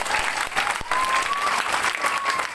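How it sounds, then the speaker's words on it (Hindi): A crowd gathered for a Shrimad Bhagavat Katha religious discourse applauds steadily for a woman preacher. The clapping stays dense and even throughout, and a faint high tone runs underneath. "जोरदार तालियां इनके लिए बजा दीजिए"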